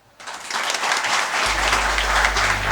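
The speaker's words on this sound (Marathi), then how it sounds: "एकदा जोरदार टाळ्या वाजून आपण या स्वराचं कौतुक करूया" An audience at a lecture series event breaks into applause after a speech on the environment: a dense, steady wash of many hands clapping that starts suddenly and carries on loudly to the end.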